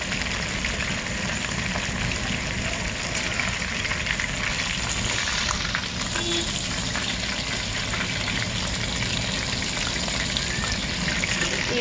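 Chicken pakoda frying in hot oil, a steady, dense sizzle and bubbling that stays loud and constant throughout, close up with no pauses.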